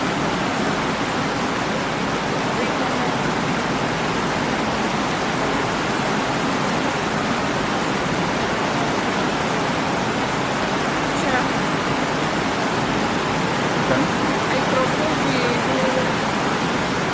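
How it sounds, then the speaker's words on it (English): Heavy rain pours without a break during an outdoor ceremony in Tanzania, a dense, steady broadband hiss that stays loud and even throughout, with no clear voices above it. "I think we give the rain a few minutes."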